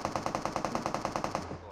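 Rapid automatic gunfire from PUBG Mobile, a steady burst of about a dozen evenly spaced shots that stops abruptly near the end, loud and close.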